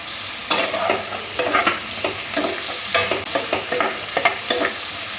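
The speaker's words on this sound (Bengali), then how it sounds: "একসাথে হালকা করে নাড়াচাড়া করে ভেজে নেব।" Vegetables for chicken manchurian are stir-fried in a pan. Rhythmic spatula strokes scrape and toss against the metal over a soft, continuous sizzle, up close and without any talk.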